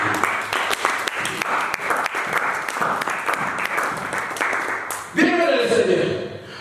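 Church congregation applauding during a French-language sermon, a steady wash of many hands clapping with speech running over it, rising abruptly louder near the end as cheering swells.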